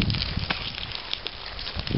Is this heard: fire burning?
yes